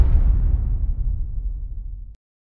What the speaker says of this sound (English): some of the elements that go into this explosion are low frequency energy, which sounds like this.